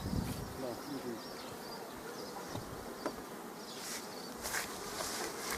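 A swarm of bees buzzes steadily and densely near an apiary in Tetiiv, a close, continuous drone with a few faint knocks over it.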